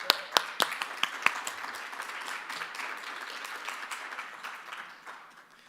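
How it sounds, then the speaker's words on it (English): An audience at a congressional candidates' debate claps, starting with a few sharp, close claps and settling into a dense round of applause that fades toward the end. "Let's give them another round of applause."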